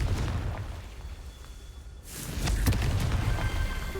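A Confringo blast spell goes off in Hogwarts Legacy, aimed at rocks: a single sudden explosive burst about halfway through, rising out of a low background rumble and trailing into scattered crackles.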